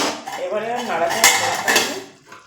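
A metal cooking pan of tomatoes and fish is shifted about with tongs, giving clinking and scraping metallic knocks close by, with a voice talking over much of it.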